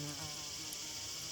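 Orchid bees buzz in a continuous, close hum with slight shifts in pitch as they hover, and no voices are present.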